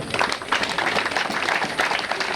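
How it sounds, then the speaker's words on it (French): Audience applauding partner organisations at a reproductive health campaign launch in Fandène, a sustained round of dense, even clapping from a sizeable crowd, heard from within the gathering. "Je vous demande de les applaudir très fort"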